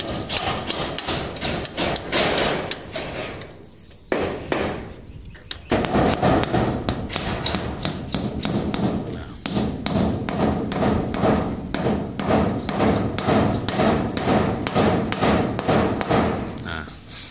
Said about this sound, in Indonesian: pada saat kita memaku, kita harus lurus turun, jangan miring ke kiri, miring ke kanan